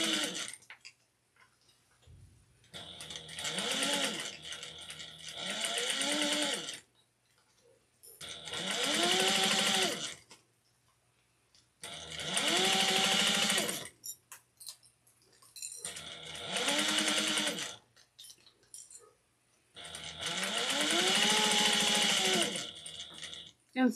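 A sewing machine stitches through four layers of fabric in five separate runs, its motor whirring up and winding down each time, with short quiet pauses between the bursts.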